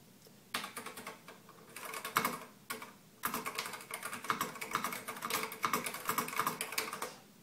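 Quiet, steady typing on an Altair 8800 computer keyboard, a quick run of soft key clicks with brief pauses between bursts.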